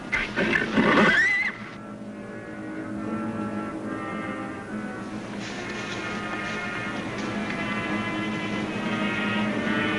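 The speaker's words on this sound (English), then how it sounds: "Come on, whinny for me." A horse whinnies loudly with a rising, shaky neigh near the start, followed by quieter steady background noise.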